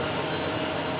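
An SAS Airbus A321neo LR jet at JFK airport gives a steady, broadband engine roar with a faint high whine. The sound is continuous and fairly loud, with no talk over it.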